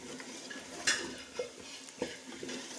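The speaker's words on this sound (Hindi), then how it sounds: "इसको 2 से 3 मिनट में आलूओं को ऐसे भूनूंगी" Potatoes for a gravy-style aloo salan are stir-fried in a pan, giving a soft background sizzle broken by a few sharp scrapes and clinks of a spoon against the pan, close by and without voices.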